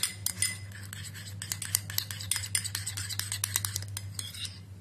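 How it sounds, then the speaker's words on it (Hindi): Neem oil being mixed into shampoo, a spoon stirring in a small container with repeated light clinks and scrapes in an uneven rhythm over a steady low hum, no talking. "आपको इसे अच्छी तरह से मिक्स कर लेना है"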